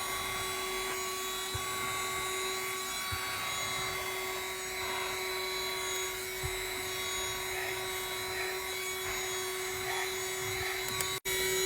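A vacuum cleaner runs close by with a steady motor whine and a strong tonal hum that holds level throughout, with a few faint knocks and a brief dip near the end.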